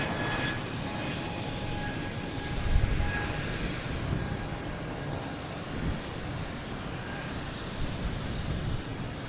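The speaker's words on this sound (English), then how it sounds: "we do have Aer Lingus coming in, Shamrock, from Dublin" An Aer Lingus airliner arriving from Dublin at Boston Logan Airport. A broad, steady engine roar hangs in the air at moderate distance, with a faint tonal whine threading through, and no one speaking.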